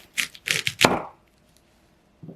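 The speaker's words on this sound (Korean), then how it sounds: "양배추는 가운데 심지 부분은 자르고" A knife cuts through the core of a cabbage with four sharp, crisp crunching cracks in quick succession, close and clear. After a pause there is one softer crunch.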